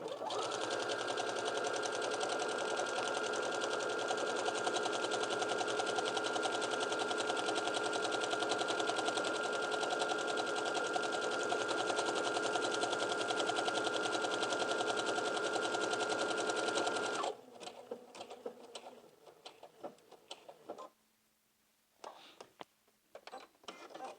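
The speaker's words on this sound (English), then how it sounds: "when you begin sewing, the machine along with this presser foot will do all the work for you." A sewing machine with a buttonhole presser foot stitches a buttonhole, running as a loud steady whirring hum for a long stretch, then stopping, followed by scattered clicks and handling noises.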